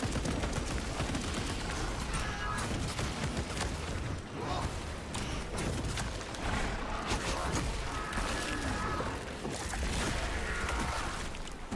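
Rapid turret gunfire from a Techmarine build in the Space Marine video game, a dense, continuous barrage of loud automatic shots with crashing impacts running throughout.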